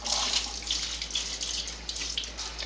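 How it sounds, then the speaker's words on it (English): Dirty wash water draining through the valve of a Laundreez travel laundry bag, a close, steady splashing trickle with small surges and no voices. "with the valve, it's a real easy open and drain off your dirty water"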